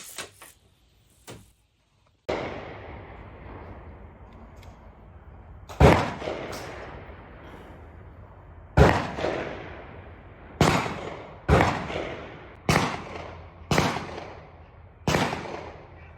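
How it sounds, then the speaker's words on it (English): A Glock 20 pistol with a 6-inch barrel fires at a target 100 yards out, producing about eight loud, sharp reports spaced a second or two apart, each with a short echoing tail outdoors. "I'm shooting at this little target out at 100 yards."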